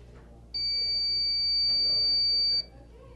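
A fire alarm control panel resetting gives off a steady, loud electronic tone that holds for about two seconds and then cuts off, with faint low background noise around it.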